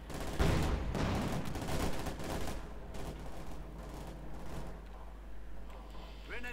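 MG42 machine gun fire from the video game Company of Heroes 2 rattles in repeated bursts within a busy battle mix, dense at first and thinning out, with a voice partly mixed in.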